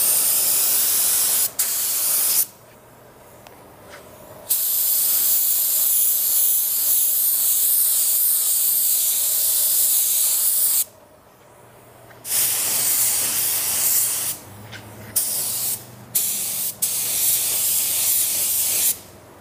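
An auto spray gun paints where a car fender meets the bumper, with loud, close, steady hissing bursts: a long spray, a pause, another long pass, then several shorter broken bursts.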